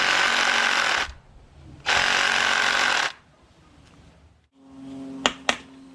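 A SnapFresh 20V 2.5Ah cordless electric reciprocating saw gives two short, loud bursts of buzzing motor noise separated by silence, followed by faint handling clicks and a couple of sharp ticks.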